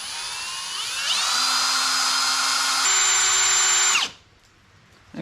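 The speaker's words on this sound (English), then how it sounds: "I'm going to drill the rest of the way in as well." Power drill boring into a metal grill guard on a John Deere 2032R or 2038R compact tractor, a steady high whine spinning up near and loud for about three seconds, shifting pitch once under load, then winding down and stopping.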